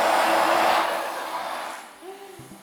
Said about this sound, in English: you can sweep dust right into the central vacuum system